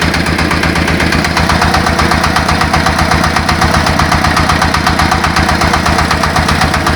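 A small two-wheel-tractor-based mini tractor engine idles steadily and loudly up close, with an even, rapid chugging rhythm and no voices.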